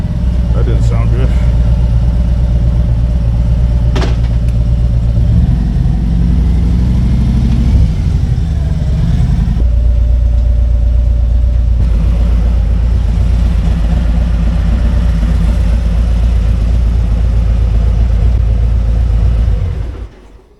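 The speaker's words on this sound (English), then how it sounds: "Motorcycle." A motorcycle rides through Denver streets with a steady, loud, low engine drone and rumble, shifting pitch now and then as it cruises, close to the rider throughout.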